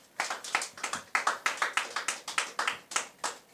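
A church congregation claps in a quick, fairly regular rhythm, about a dozen sharp bursts of many hands together, moderately close and free of talk.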